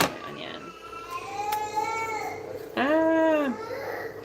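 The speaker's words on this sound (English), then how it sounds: "You're gonna hear my kids in the background." Young children fuss and cry in a home kitchen, a wavering wail rising and falling before a louder sustained cry, mixed with babbling and household noise.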